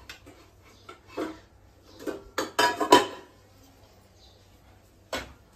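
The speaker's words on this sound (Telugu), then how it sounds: "కొంచెం అట్లా అట్లా పెట్టి మూత పెడదాం" A metal lid clinks and clatters onto a cooking pot of crab curry in a few sharp, close knocks clustered together, with a final tap after a short pause.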